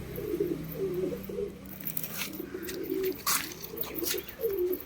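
Pigeon cooing from a Kasma-faced chhapka pigeon, a repeated low throaty coo in soft rhythmic phrases close by, with faint bird chirps and background clatter, no talking.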